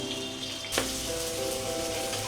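Potatoes still wet with water hit hot oil in a home kitchen pan, bursting into a sudden loud hissing sizzle with crackling spatter that continues steadily close by.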